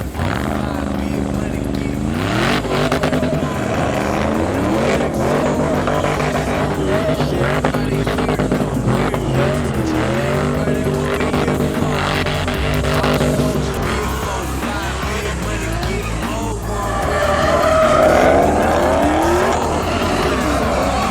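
Engines roar loudly and continuously while cars do burnouts at a street sideshow with tires squealing, a dense, crowded din throughout.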